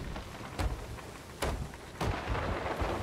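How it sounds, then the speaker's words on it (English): Thunder and lightning strikes at sea in the Sea of Thieves pirate game, with sharp cracks at three moments over a steady wash of rain, loud and close. "we just almost got struck by lightning"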